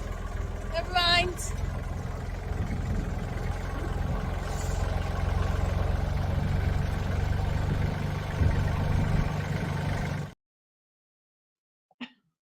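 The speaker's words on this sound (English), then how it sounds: "You're driving the tractor." A tractor engine runs steadily nearby while being driven, a continuous mid-pitched drone that holds for about ten seconds before cutting out abruptly, with people talking over it and a brief voice afterward.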